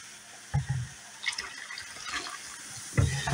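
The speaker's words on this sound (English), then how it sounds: "I'm going to add a little more vinegar." Vinegar is poured down a slow-running drain onto baking soda, giving short splashing gurgles and liquid trickles in two brief bursts with quiet fizzing between them.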